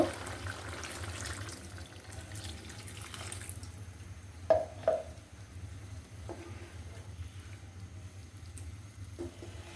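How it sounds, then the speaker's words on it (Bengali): Water pours quietly into a pot of shrimp and potato curry, a soft, low running sound with a couple of sharper clinks partway through. "আরেকটু পানি অ্যাড করব"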